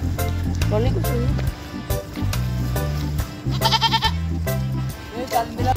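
Goat bleating at a Batangas home where goat stew is being prepared, repeated cries over a sizzling, busy background with voices nearby.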